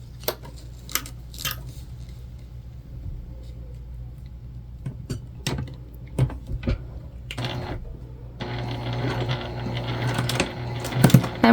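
A sewing machine stitches a bag with 1/8 inch seams for four rows of stitching. Scattered clicks and handling knocks come first, then the motor hums in a steady, close run near the end.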